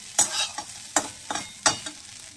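Leftover cooked rice is stir-fried in a pan, sounding as a rhythmic series of scraping sizzle bursts from the spatula, about five strokes in quick succession, close and fairly loud with no voices.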